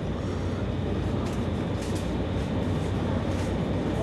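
A moving train's carriage rattles and rumbles steadily, a dense, constant low roar with no pauses, heard from on board and close, with no voices.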